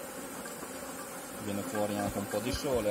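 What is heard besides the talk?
honeybees buzzing around an opened beehive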